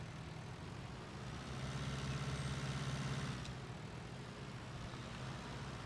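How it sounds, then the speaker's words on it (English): Tractor engine from the farming game My Little Farm, set in the French countryside at Chambly-sur-Meuse, drones steadily with a low, rough rumble that swells slightly mid-clip as it drives along, with no talking. "Racing too fast in this tractor"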